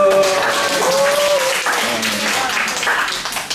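A church children's worship congregation claps together, a dense, loud burst of applause lasting a few seconds, with voices calling out and talking over it.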